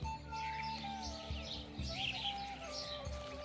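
Small birds chirp and tweet in bursts around a garden bird fountain on a farmhouse plot in the morning, set over a steady low hum with a faint continuous tone.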